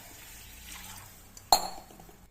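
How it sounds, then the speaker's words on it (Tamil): Quiet room, then a sharp metallic clink followed by a short splash of a tumbler of water poured into a sambar pot. "அதில் ஒரு டம்ளர் தண்ணி ஊற்றிக்கிறேன்"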